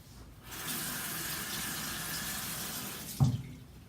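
A tap runs in a steady hissing stream for about three seconds, then shuts off with a short knock.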